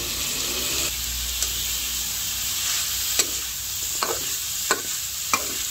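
Carrot going into a hot pan of frying bean sprouts, a steady broad sizzle with several sharp utensil scrapes and taps against the pan, close and alone without talk.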